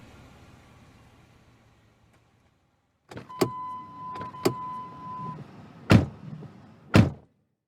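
In an audio drama, a car door thunks shut, then an engine and interior whir rise briefly before two more heavy door slams close the scene. Everything is close and loud, and no one speaks.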